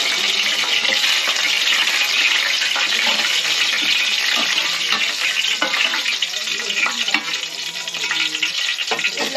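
Whole spices frying in hot oil in a pan for vegetable biryani, a steady dense sizzle running throughout with occasional stirring scrapes, close and fairly loud, no talk.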